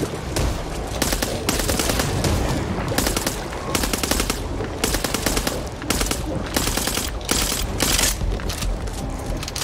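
Rapid bursts of submachine gun fire in the zombie shooter game Back 4 Blood, loud and dense with repeated volleys and brief pauses across the whole stretch, under a busy game soundscape.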